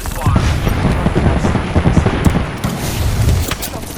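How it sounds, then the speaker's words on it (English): Rapid gunfire from a fight in the video game Apex Legends, dense overlapping bursts of loud, close shots with booming low end running steadily throughout, with a character voice speaking over parts of it. "Shots fired."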